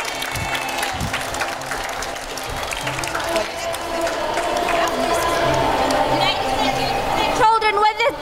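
An audience claps for children after a cooking show segment, a sustained round of applause with some cheering, heard at moderate level with voices mixed in.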